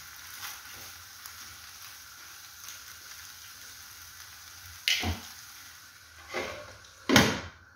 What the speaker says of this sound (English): Let me simmer it on low heat for about 5 minutes maximum.